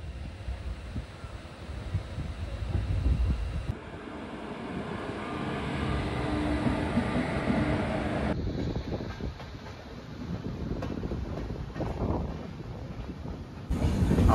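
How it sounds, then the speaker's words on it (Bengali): The Saraighat Express rumbles steadily through the night near New Farakka Junction, a continuous loud roar of wheels and carriage with wind buffeting, heard from near the open door, no talk. "আমাদের ট্রেন এখন নিউ ফারাক্কা জংশন ছাড়লো"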